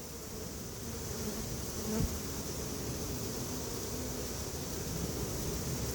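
A honeybee swarm being hived, heard as a dense, continuous buzzing drone of many bees, steady and fairly close throughout with no talking.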